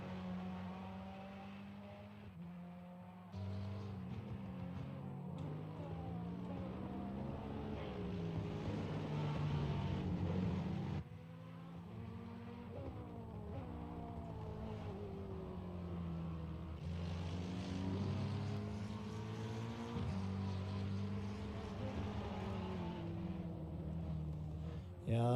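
Ferrari race car engine in an online racing game at the Hungaroring, a sustained whining roar that rises and falls through gear changes, with a commentator talking over it.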